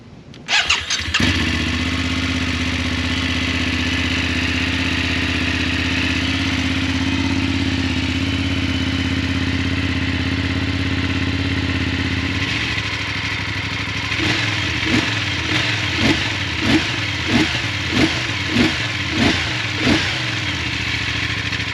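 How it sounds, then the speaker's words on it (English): A BMW F 850 GS parallel-twin motorcycle cranks and fires, settles into a steady idle, then gets a series of about eight sharp, evenly spaced throttle blips near the end, loud and close with no talking. "The 850 has a parallel twin, and that's where you get the whoop whoop sound of this bike."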